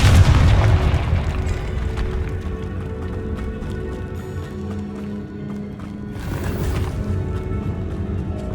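A Confringo blasting spell in Hogwarts Legacy, bursting with a heavy, booming explosion at the start that rumbles and fades, followed by scattered clattering debris and a second softer burst later.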